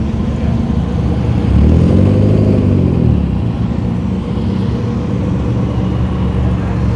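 A car pulls up at a car meet with a loud, deep engine rumble that swells in a rev around two seconds, then settles into a steady idle drone close by.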